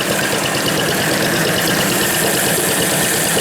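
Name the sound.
antique corn grinder engine running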